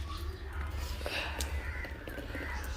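A crow caws a few times at a distance over a steady low rumble of background noise.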